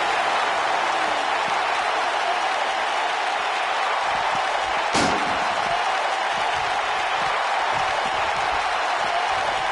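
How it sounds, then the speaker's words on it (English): A ringside crowd at a fight roars in a steady, dense wall of cheering and applause throughout, with one sharp thudding impact cutting through midway. "by the sound of this crowd, I think they're getting what they wanted"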